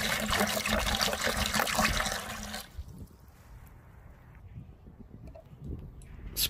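Distilled water, about half a gallon, pours into a container in a loud, steady splashing stream for roughly two and a half seconds, then gives way to faint trickling and quiet handling sounds.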